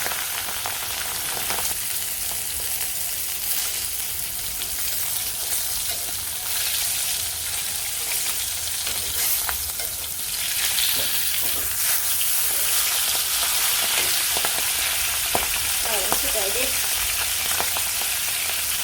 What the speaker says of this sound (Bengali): তেল হয়ে গেছে গরম হয়ে মাছ দিয়ে দিই থাকে তাকে মাছটা ভাইজে নিই